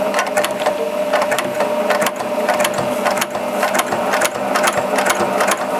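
A Janome 780DX professional sewing machine runs at speed through fabric, a loud, fast mechanical whir with steady rapid ticking of the needle, continuous and close with only brief dips.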